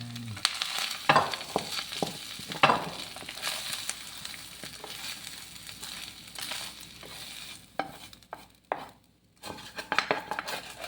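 Corned beef frying in a pan, with a soft continuous sizzle broken by scraping and clinks of a utensil against the pan as it is stirred and moved, fairly quiet and without talk.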